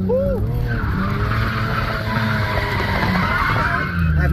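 A manual Lexus GS300 drifts around an Apple Valley Speedway corner, its engine droning loudly and steadily with tire squeal running throughout, while voices talk over the noise.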